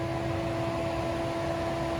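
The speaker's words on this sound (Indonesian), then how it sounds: "Suara kipasnya juga udah mulai berisik ya." The condenser fan of an Air EV electric car's air conditioner runs loudly, a steady close whooshing roar with a constant humming tone underneath and no talking.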